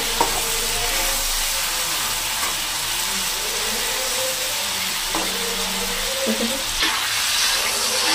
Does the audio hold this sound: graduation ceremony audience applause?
no